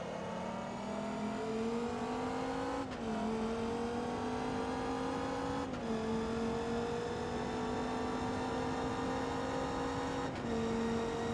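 Steady engine drone of a car driving in Forza Motorsport 2, a sustained revving tone that climbs and drops with three distinct gear shifts, close and continuous without talk.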